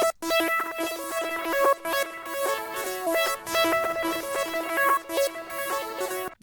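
A bright synth lead melody drenched in motion effects and ping-pong delay, with fast stuttering repeated notes and echoes, played alone and clearly with no talking, in a trap beat.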